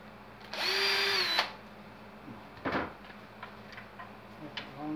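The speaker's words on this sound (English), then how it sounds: "I'm going to drill some pilot holes." A power drill boring pilot holes into a wooden guitar fretboard blank, one sustained whining burst of close, loud drilling that winds down, followed by a few faint knocks and handling sounds.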